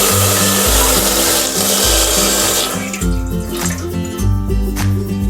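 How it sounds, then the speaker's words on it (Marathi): Water is poured into a heated idli steamer pot to steam modak, producing a loud, continuous rushing pour with a low rumbling undertone that shifts in pitch throughout. "आपलं एक इडली पात्र गरम झालेले आहे आपण याच्यामध्ये पाणी घालून घेऊया"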